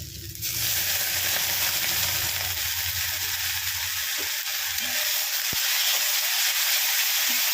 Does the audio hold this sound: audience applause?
no